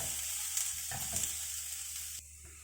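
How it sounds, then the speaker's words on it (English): Capsicum frying in a pan, a steady soft sizzle with a few faint stirring knocks, quiet and close, the hiss thinning toward the end. "So now we'll fry it for a little bit more."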